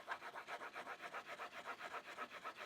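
Ultra 400 TX fabric is rubbed back and forth in a steady, rhythmic scratchy swish, about five strokes per second, close and quiet with no voices.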